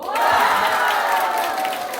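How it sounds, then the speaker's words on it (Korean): Audience at a singing contest final applauds and cheers, a dense, sustained wash of clapping that holds for about two seconds at steady loudness. "기분 좋죠? 이렇게 박수 받으면."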